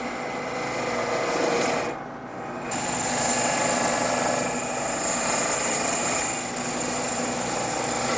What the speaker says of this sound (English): I'm going to speed up the lathe a little bit and make the final cuts